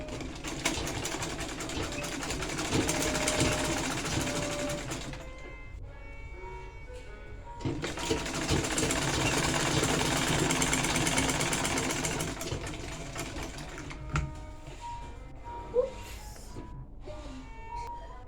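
A sewing machine stitches a half-inch seam on sleeve fabric for a cord-designed sleeve, running in two long steady bursts with a pause between them, then quieter handling sounds.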